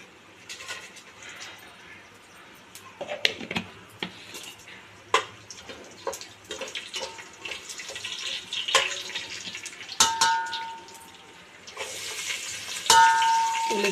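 Whole garam masala spices frying in a little oil for bagara rice, with irregular crackles and sizzle bursts, some clattering, and a louder hiss near the end.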